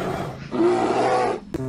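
A bear in the video game Jurassic World Evolution 2 lets out one deep, sustained, loud roar lasting over a second, close and alone, ending with a short thump.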